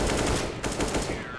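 Rapid automatic gunfire in a shooting video game, a dense close burst of repeated shots over about a second and a half.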